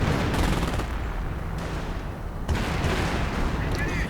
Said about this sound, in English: More artillery right on the Panzer Grenadiers.